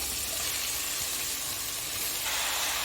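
Continuous loud sizzling and hissing of chicken frying in a hot pan with tomatoes for chicken gravy, steady throughout with no voices.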